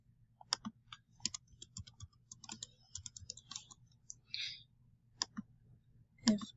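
Quiet, close clicks of a computer keyboard come in short irregular bursts, scattered keystrokes pausing and resuming over a faint background hum.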